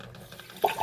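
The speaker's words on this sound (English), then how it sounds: "I turn my water on," Tap water being turned on for mixing vermiculite: quiet background at first, then a short, louder gush of running water bursts in near the end.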